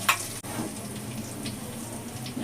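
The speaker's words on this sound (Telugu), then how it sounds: "నీళ్ళు పడ్డాయి, అందుకే సౌండ్ ఎక్కువ చిరచిరామంటుంది." Coconut, cashews, onion and tomato sizzling loudly in a pan for chicken sherva just after water hits the hot oil, a dense continuous crackle with a sharp burst at the start and faint scraping throughout.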